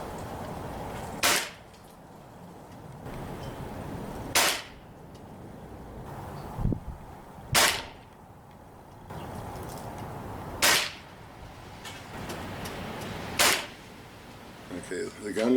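Hatsan 125 Sniper .22 caliber spring air rifle firing at H&N field targets: five sharp, loud shots spaced a few seconds apart, each with a short crack and quick decay, over faint background noise.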